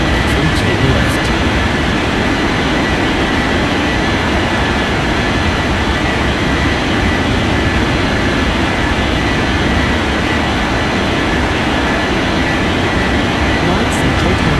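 Airliner taking off in an air traffic control video game, a loud, constant broadband engine roar with deep rumble sustained throughout, with a voice faintly audible beneath it.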